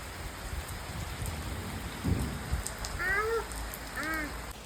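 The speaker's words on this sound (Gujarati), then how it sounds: "વરસાદ ચાલુ થઈ ગયો" Steady rain hissing on surfaces in a village, with a low rumble, and a couple of cat-like meows toward the end.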